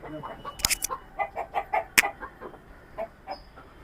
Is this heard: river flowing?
no